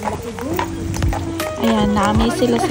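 Horse hooves clip-clop steadily on the street in Old Quebec near the Château, a rhythmic run of hoofbeats under continuous conversation from people nearby.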